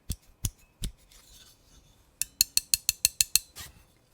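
Sharp metallic clicks from a PMP Knives Alpha Smilodon folding knife mechanism, a few spaced snaps and then a quick rhythmic series of about eight crisp clicks, close up and alone.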